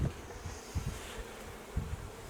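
A cluster of honeybees buzzes in an opened hive during a spring inspection, a close, soft continuous hum with a few louder low pulses as bees move near the frames.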